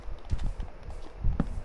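Horse hooves clip-clopping in a video game, a few loud, close hoof thuds at an uneven pace.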